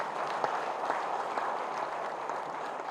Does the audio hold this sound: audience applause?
yes